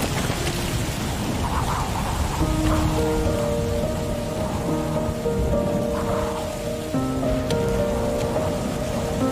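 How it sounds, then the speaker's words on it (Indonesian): Steady, heavy rain pours down with a dense hiss, joined by rumbling and a layer of tonal sound running underneath. "tiba-tiba datang di tengah lebatnya hujan"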